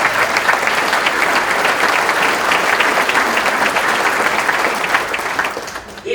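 A dinner audience at an annual banquet applauds loudly and steadily, dense clapping filling the room without pause before tapering slightly at the very end.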